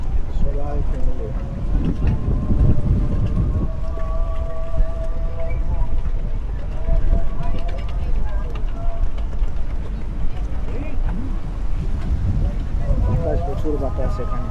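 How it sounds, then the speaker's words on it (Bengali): Strong gusting wind buffets the microphone outdoors, producing a loud, continuous low rumble that swells and dips throughout, with faint voices and background activity underneath. "বাতাস, প্রচুর বাতাস এখানে।"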